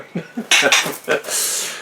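Ceramic food dishes clink and knock together several times in quick succession, used as trays under house plants, followed by a brief scraping rattle.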